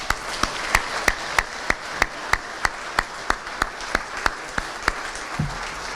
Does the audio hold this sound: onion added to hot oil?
no